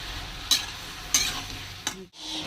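Mixed vegetables of spinach, potato and eggplant being stirred in a frying pan, three distinct scraping strokes over a quiet sizzle, then a brief pause.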